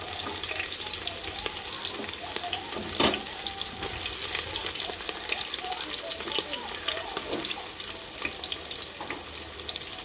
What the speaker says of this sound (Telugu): ఇప్పుడు నేను ఉల్లిపాయలు అండ్ పచ్చిమిర్చి అయితే వేసుకుంటున్నాను.